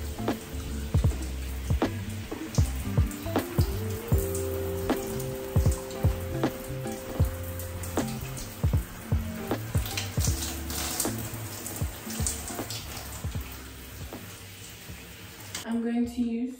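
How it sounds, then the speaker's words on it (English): Water runs continuously as conditioner is rinsed out of extremely long curly hair, a steady splashing hiss broken by irregular drips and splatters, with music playing underneath. "I am going to rinse out this conditioner"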